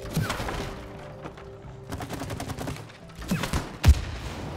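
Rapid bursts of gunfire from shooting targets in the video game It Takes Two rattle off in quick, repeated volleys, ending with a heavier thumping impact near the end.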